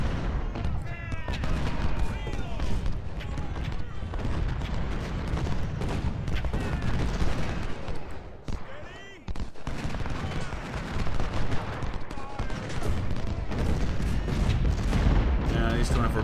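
Artillery including 24-pounder cannons and massed musket fire in Ultimate General: Civil War during the Siege of Suffolk, a dense rolling battle din of overlapping shots and booms, loud and continuous with a short lull midway.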